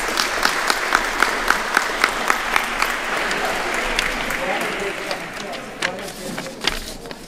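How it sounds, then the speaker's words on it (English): An audience at a casino night event claps together in a lively round of applause that gradually thins and fades out. "A round of applause for the volunteers."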